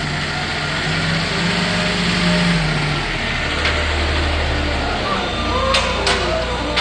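Engine of a 2019 Princeton PB55.3 truck-mounted piggyback forklift running and being driven, a steady mid-pitched drone that shifts in pitch partway through, heard close and loud.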